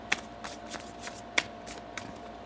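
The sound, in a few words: shuffling tarot cards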